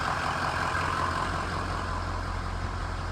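A 2007 Ford E350 van's 6.0L diesel engine runs steadily up close, a dense low rumble with a droning mid-range note holding even and loud throughout, no talking.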